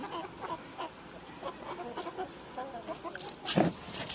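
Rooster and hen calls at close range over a busy farmyard, with a louder crowing burst near the end.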